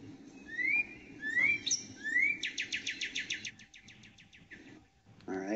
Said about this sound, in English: So listen for bird calls.